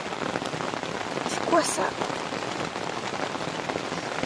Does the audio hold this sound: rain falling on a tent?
yes